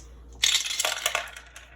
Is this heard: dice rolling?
yes